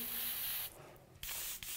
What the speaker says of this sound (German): sprühe das nochmal kurz durch